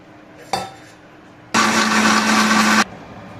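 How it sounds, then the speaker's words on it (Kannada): Mixer grinder blending cooked lentils with a little water for drumstick sambar: a sharp click, a pause, then about a second of loud, steady high whirring that stops abruptly, close by. "ಬೇಳೆ ಬೇಯಿಸ್ಕೊಂಡು ನೋಡಿ ಅವು ಹಾಕಿ ಎಲ್ಲ ಒಂದ್ಸಲಿ ರುಬ್ಬೋಣ ನುಣ್ಣಗೆ ರುಬ್ಕೋಬೇಕು ಸ್ವಲ್ಪ ನೀರನ್ನು ಹಾಕಿ"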